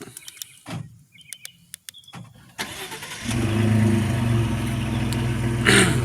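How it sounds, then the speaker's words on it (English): A Ford F150 pickup's 2.7 engine cranks and fires up, then settles into a loud, deep, rumbling idle close by through a resonator-delete exhaust with no tip, with a brief rise near the end. "That's the resonator delete, no tip."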